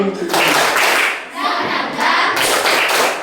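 Group of children doing a rhythmic spirit clap in a cake-baking class, steady patterned claps with a few thuds, close and loud, with voices mixed in.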